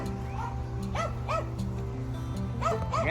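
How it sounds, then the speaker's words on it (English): Three-week-old Westiepoo puppies yip and whimper in short, high, rising cries, several in quick succession, close by over a steady low hum. "here they are, Cassie's puppies"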